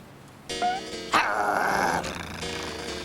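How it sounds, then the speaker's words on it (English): Dogs bark and growl in a cartoon park scene, a sharp bark followed by a sustained snarling growl, loud and close, with musical score underneath. "Dogs! I hate dogs!"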